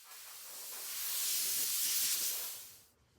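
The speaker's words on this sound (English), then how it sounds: "just going to blow the panel off with some compressed air" Compressed air blowing off a car panel after a grease and wax wipe: a single sustained hiss that swells and then fades, close and loud, with no voices.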